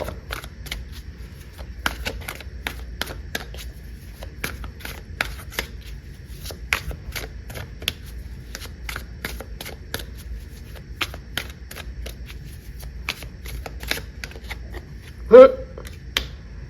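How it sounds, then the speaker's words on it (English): Tarot cards are shuffled and pulled in a steady run of crisp, close riffling clicks and snaps over a quiet background, ending with one louder burst near the end. "Let's pull a card on the Fool."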